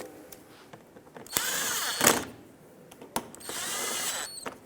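A power drill snugs bolts on a 2012-2020 Ford Focus horn under the bumper cover, in two close bursts of high whirring with brief ratcheting clicks between them.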